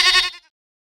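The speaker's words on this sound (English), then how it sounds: "Goat." A single short, loud goat bleat, close and alone, fading out within half a second.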